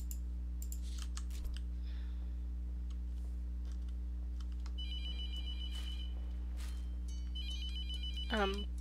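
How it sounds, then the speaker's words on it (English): An electronic telephone in the horror game The Mortuary Assistant rings in repeated chirping bursts, moderately loud over a steady low hum, with scattered keyboard-like clicks and a rising whoosh near the end. "Is there a phone up here I can answer?"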